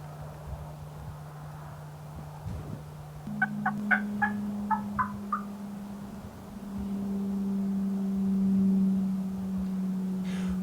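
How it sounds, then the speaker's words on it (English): Distant gobbles from mature wild turkey gobblers in New York roll out in a quick stuttering burst, faint against a steady background hum of engine or wind noise. "there were mature gobblers sounding off below them"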